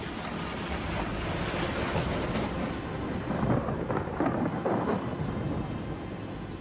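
A storm's thunder rumbles steadily alongside heavy rain, a broad continuous roar with swells toward the end, and no voices.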